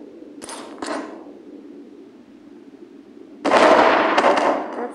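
Grenade explosions in a video game: two sharp bursts close together early on, then a louder, longer blast with a decaying roar near the end, with quieter background noise between.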